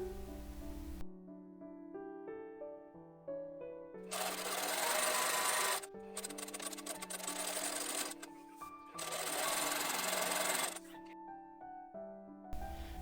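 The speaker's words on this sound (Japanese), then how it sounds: "アイロンで見返しを前端の位置で折って、下から真ん中あたりまでに端ミシンをかけます" A sewing machine edge-stitches the facing of a garment in two sustained bursts of rapid mechanical whirring, each about two seconds long. Between and around the bursts, soft piano music plays at a moderate level.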